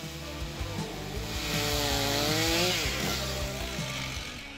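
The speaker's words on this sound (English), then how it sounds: "Surprised by the performance of advanced saws in the process of cutting towering trees with fast speed and high accuracy." A chainsaw cuts through a large tree trunk with a loud, continuous engine roar up close, its pitch sagging under load as it bites deeper before recovering.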